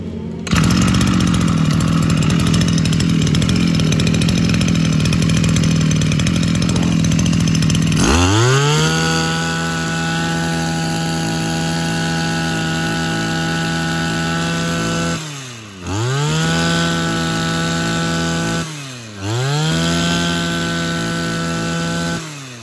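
A used Japanese brush cutter's small two-stroke engine idles roughly, then revs up to a loud sustained high-pitched whine, drops back and revs again twice, close and without speech.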